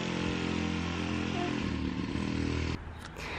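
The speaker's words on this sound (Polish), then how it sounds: "Motorkiem jeździ chłopczyk." A small motorbike ridden by a boy at a playground buzzes with a steady, raspy engine drone, fairly close and constant, then cuts off abruptly near the end.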